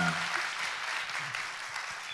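Studio audience applauding for a guest on a Korean talk show, a steady dense wash of clapping held for a couple of seconds, with faint voices calling out at the start.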